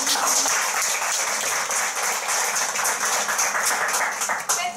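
Music school students' audience applauds at a concert, a full, steady round of clapping from many hands that carries on throughout, easing slightly at the very end.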